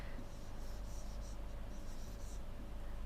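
Letters written on a board in a science classroom, a soft scratchy marker or chalk sound in a few short strokes over a steady low background hum, faint and without talk.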